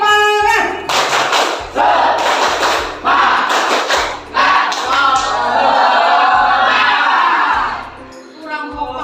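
A group claps the rhythmic Indonesian "tepuk semangat" spirit clap in a classroom-style session, repeated bursts of patterned claps with a strong, punchy beat, close and loud, with a voice speaking over parts of it.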